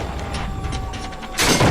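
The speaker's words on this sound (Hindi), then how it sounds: "और फिर उसने रविशंकर के घर का दरवाजा तोड़ दिया।" A house door is smashed in within an animated Hindi horror story, as a sudden loud, broad crash bursts in at the end after a steady, noisy rumble.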